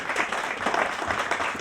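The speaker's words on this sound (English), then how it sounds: "Clap for him." Audience applause at a launch event: a steady, dense burst of clapping from a crowd, sustained evenly throughout.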